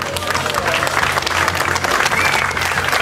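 Onlookers clap for an honoree at a fishing tournament award ceremony in Villa Rica, Veracruz, a dense steady applause with a low background hum and faint voices mixed in.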